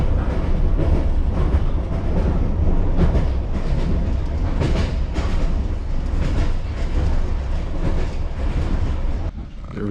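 Passenger train rolling from Kaliningrad to Bagrationovsk on a cheap local route, a steady loud rumble with rhythmic clickety-clack of wheels over rail joints throughout, heard from inside the carriage.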